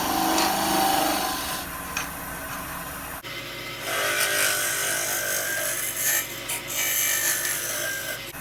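A gouge cuts a spalted wood goblet spinning on a lathe, giving a continuous close rasping, peeling sound that shifts tone sharply partway through, then carries on with small surges.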